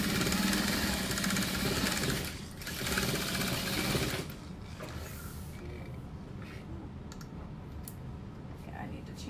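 A sewing machine stitching a handbag runs in loud, steady bursts of rapid mechanical whirring and clatter for about four seconds, then stops, leaving quieter handling noise and faint clicks up close.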